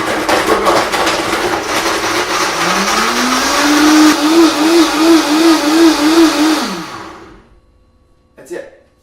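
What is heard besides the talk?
blender frothing hot chocolate with almond milk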